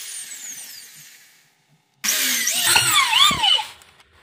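A power drill bores into a coconut shell, one loud whining burst of a couple of seconds that starts suddenly after a quiet pause and holds close before tailing off.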